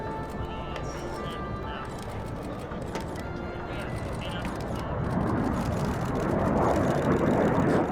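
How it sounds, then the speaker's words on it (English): A quartet of T-38 Talon jets roars past in an airshow opening flyover, a broad rumbling rush building louder toward the end, heard under a narrator's voice. "But we start with a quartet of T-38 Talons,"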